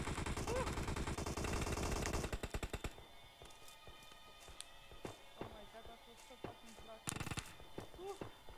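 Rapid automatic gunfire in a video game rattles loud and fast for about three seconds, followed by scattered single shots and clicks further off while someone speaks briefly.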